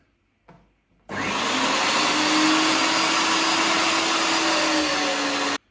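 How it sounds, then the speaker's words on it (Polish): An electric meat grinder minces pork neck through a 7 mm plate. After a brief knock, the motor starts and runs as a loud, steady whir until it cuts off at the end. "I teraz na sitku 7 mm yy, mielę karkówkę."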